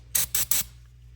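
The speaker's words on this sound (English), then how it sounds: "So you're just going to spray this directly on the terminal" Three short, crisp hisses of DeoxIT D5 contact cleaner sprayed from an aerosol can onto a car battery terminal, each burst roughly a tenth of a second, close and loud over a low background hum.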